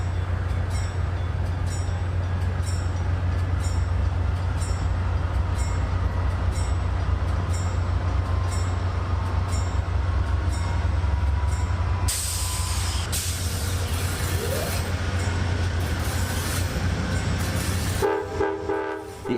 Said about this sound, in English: the Empire Builder is pulling away from the platform here at Portland Station